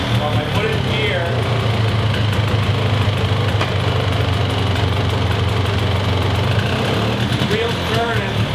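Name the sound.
Polaris Xplorer ATV engine running in gear, wheels turning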